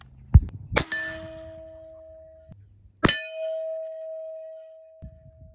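Two air rifle pellets from an AEA Challenger .50 caliber bullpup strike a steel gong downrange, each hit a sharp clang followed by a long ringing tone. Faint shot noises and background sounds come before each strike.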